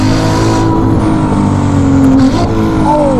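Ferrari 296 GTB fitted with a Novitec exhaust accelerating hard, a loud continuous engine drone with rising tonal bands and a brief shift dip near the end, heard from inside the car.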